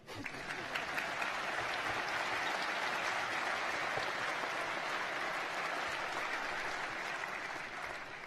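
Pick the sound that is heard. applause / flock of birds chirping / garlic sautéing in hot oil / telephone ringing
applause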